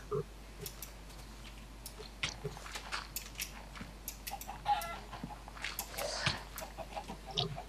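Chickens in the Minecraft video game cluck in scattered short bursts, quiet and intermittent over a faint steady background hum.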